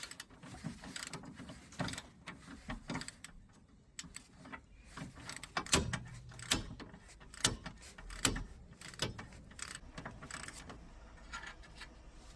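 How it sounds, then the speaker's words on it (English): Top nut coming off a Nissan Leaf lower suspension wishbone bolt: quiet, irregular metallic clicks, taps and scrapes of a hand tool working the nut, with short pauses between bursts. "that's the top nut removed"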